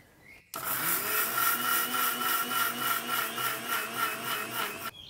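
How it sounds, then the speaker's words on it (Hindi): A mixer grinder blitzes fennel seeds and two cups of sugar with the lid on, a loud, steady motor whir that starts abruptly and runs for about four seconds before cutting off, with no talking. "और इसे ढक्कन लगा करके पीस लेंगे"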